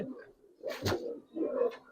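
Giribaz and coloured pigeons coo in short, soft, low bursts close by, two or three throaty calls spread over a couple of seconds.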